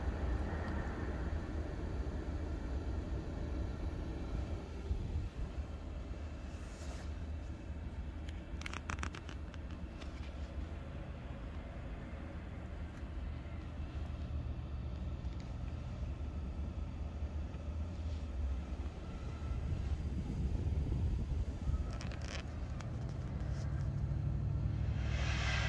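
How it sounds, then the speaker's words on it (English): A Chinese diesel heater on a boat runs its fan through the startup cycle, giving a steady low rumble and whir. A few faint clicks and ticks sound over it. "So the fan is all operating, so it's going through the startup cycle."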